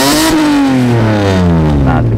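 Loud, close revving from the 2400cc V6 in a Mitsubishi FTO: the engine climbs sharply, then its pitch slides down as the throttle is released, with no talking.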